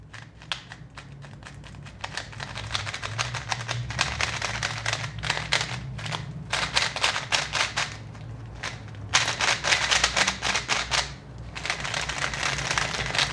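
Rapid clicking and clacking of a Tornado V3 speed cube as its faces are turned, dense bursts of plastic clatter in fast runs separated by short pauses, close and fairly loud, with no speech.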